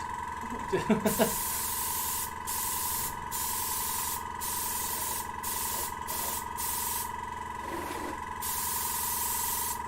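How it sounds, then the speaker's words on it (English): An airbrush sprays paint onto a waterfall diorama model in a steady, close hiss that stops and restarts several times in short bursts. A few faint clicks and rustles sit under the spray. "It's working a treat now. See, airbrushing is brilliant, I love it."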